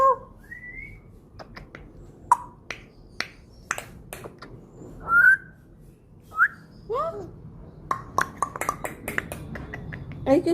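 A pet parrot whistles in short, bright rising and falling notes, scattered among sharp clicks and snaps, close and clear in a quiet room.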